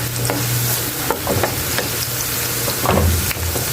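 Garlic and ginger sizzle in hot oil in a pan, with a dense, continuous crackle close by, clattered by frequent stirring and scraping of a utensil against the pan.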